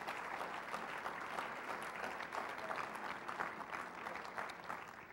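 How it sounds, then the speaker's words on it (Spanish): Congregation applauding at a church service, a steady, dense wash of clapping that fills the whole stretch at an even level with no talk over it. "Un aplauso, por favor, al Señor."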